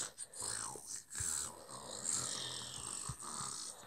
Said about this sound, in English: That's a very weird snore.